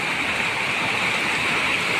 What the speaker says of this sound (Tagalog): At malakas po ang ulan, malakas po ang hangin,